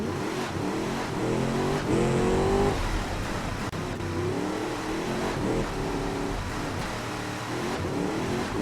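Classic dragster engine driving in the BeamNG.drive game, a steady loud mid-pitched drone with rising rev sweeps repeating through the clip.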